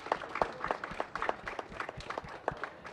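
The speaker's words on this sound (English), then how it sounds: "we need to give a big hand of applause to the Land Tenure Facility, to David and Sarah" An audience claps for event organizers at a COP29 biodiversity panel, a brief patter of scattered, fairly quiet hand claps with no talk.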